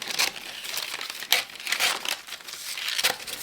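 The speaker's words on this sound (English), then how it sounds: "I'm going to cut out a round piece of parchment to fit inside my 9-inch pan" Parchment paper being cut into a round to line a 9-inch cake pan, with crisp crinkles and rustles repeating at close range and no voices.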